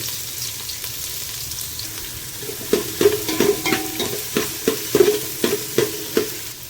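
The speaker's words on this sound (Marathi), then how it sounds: "आता आपल्या इथं तेल गरम झालेलं आहे यात मी एक मोठा कांदा बारीक चिरून घेतलेला आहे तो घालून घेते" Finely chopped onion fries in hot oil, a steady close sizzle joined partway through by a rhythmic series of spoon scrapes and stirs against the pan.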